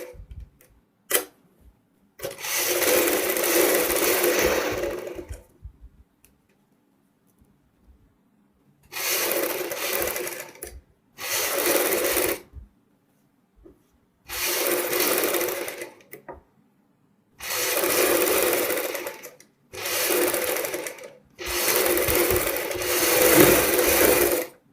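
A sewing machine stitches lace onto a blouse back neck in repeated bursts of loud, close whirring, with short pauses between runs and near silence in one longer gap.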